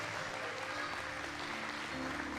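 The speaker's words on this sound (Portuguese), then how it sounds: "Se é para Jesus, pode aplaudir" A church congregation applauds during a Portuguese-language worship sermon, with steady dense clapping that fills the clip without pause.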